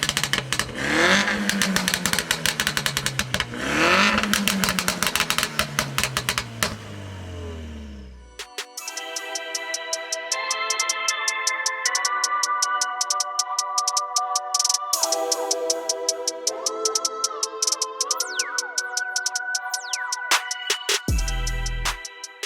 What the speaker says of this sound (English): we are out in the 308 and the revving, the pops